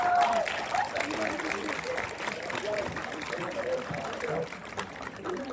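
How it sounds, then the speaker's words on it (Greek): Clapping from a crowd at a Greek university graduation ceremony runs steadily at moderate volume, with an amplified voice speaking over the applause. "να δώσουμε ένα χειροκρότημα στον Αριστείωνα"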